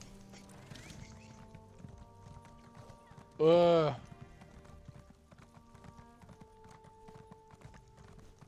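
Rhythmic clip-clop of horse hooves in a video game (ESO), steady and moderately close, with a sudden loud whinny-like burst partway through and brief speech at the start.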